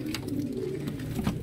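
Ferozepuri pigeons coo in low, rolling murmurs that run steadily through the whole stretch, close by and moderately loud, with a few brief higher chirps above.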